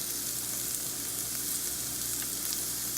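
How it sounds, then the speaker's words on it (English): Minced onion frying in melted butter in a pan, a steady, even hiss of sizzling that stays level and close throughout, with no stirring or voices. "once the butter's melted, you're going to add 15 grams of minced onion"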